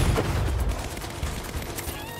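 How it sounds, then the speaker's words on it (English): Rapid bursts of gunfire in the Saints Row video game, a dense fusillade of overlapping shots in quick succession, loud at first and then tapering into scattered reports with faint game ambience behind. "Shooting!"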